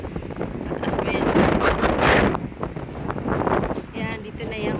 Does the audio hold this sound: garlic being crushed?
no